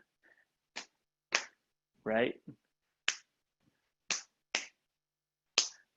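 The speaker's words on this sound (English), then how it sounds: "So we got tap, tap, tap, stomp, clap" Body percussion of taps, stomps and claps during a vocal open mic session: six sharp, close, crisp hits at an unhurried uneven pace, with a single brief spoken word midway between them.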